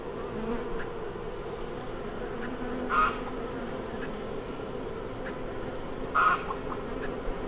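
Honey bees buzzing steadily around a mated queen deep in the hive, a dense continuous hum close by with a couple of brief louder swells.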